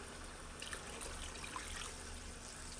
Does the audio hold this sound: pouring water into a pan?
yes